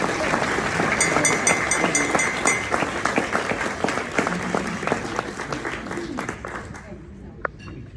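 Audience applause at a Rotary District 7305 event for exchange students, dense crowd clapping and cheering that swells, then gradually thins and fades toward the end, with a voice faintly mixed in.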